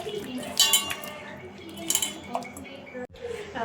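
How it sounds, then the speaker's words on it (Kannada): Salt is mixed into washed fish in a bowl, making clinking metal-on-bowl contacts and soft wet stirring in uneven bursts, close by, with a sharp knock near the end. "ಅದಕ್ಕೆ ಸ್ವಲ್ಪ ಉಪ್ಪು ಹಾಕಿ ಕಲಸಿಟ್ಬಿಡ್ತೀನಿ"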